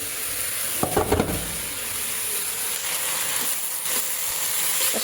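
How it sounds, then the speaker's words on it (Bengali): Steam vented from a pressure cooker of meat gives a steady broadband hiss that runs through the whole stretch, with a few brief clatters near the start and middle. "এদিকে মাংসটা আমি প্রেশার কুকারের দমটা বের করে দিচ্ছি"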